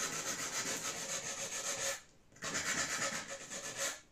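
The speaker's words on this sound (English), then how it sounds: "using a nail file or nail buffer, I'm going to just" A nail file roughens a small metal part before soldering, producing close, steady rasping strokes in a quick back-and-forth rhythm, with one short pause midway.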